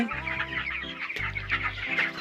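Chickens about twenty-five days old on a poultry farm cluck continuously in overlapping calls over a steady low hum. The flock sounds close and busy.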